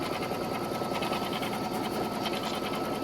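Embroidery machine stitching a zipper pouch design in a 5x7 hoop, a fast, steady mechanical whir and rapid needle chatter, loud and close throughout with no talking.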